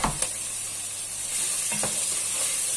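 Pepper, garlic and bay leaf, lightly salted, sizzle as they sauté in oil in a pan, a close, steady hiss with a few brief scrapes of stirring near the start.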